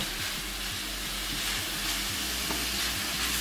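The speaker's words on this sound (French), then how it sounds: "nous allons venir mettre nos légumes qu'on a déjà découpés. Donc c'est un oignon et un demi-poivron" Sliced onion and half a bell pepper sizzle with meat in a hot pan for fajitas, a steady loud frying hiss with faint crackles and no talking.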